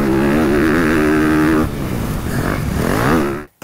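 A Honda CRF 250 motocross bike revs hard and climbs through the gears, its whine rising and dropping at each shift before cutting off abruptly near the end; close and loud, with no talk.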